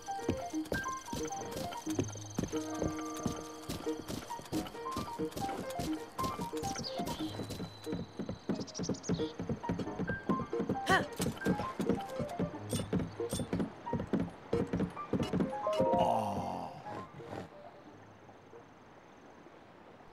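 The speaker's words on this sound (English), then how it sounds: "It's also got a blue horse." Steady clip-clop of horse hooves at a trot from Zelda: Breath of the Wild, with a dense even rhythm over soft background tones and an occasional chime, without any talking.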